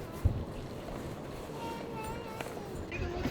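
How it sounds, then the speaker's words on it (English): Steady rumble of a boat engine at night off the Big Island of Hawaii, water rushing against the hull, with wind buffeting the microphone; a faint voice surfaces briefly. "I am on a boat right now"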